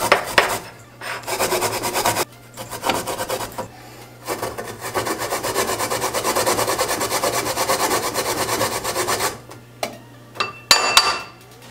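Fresh ginger grated by hand, a rough, raspy scraping in long sustained runs broken by brief pauses, with a few sharp knocks near the end. The sound is close and fairly loud, and no one talks.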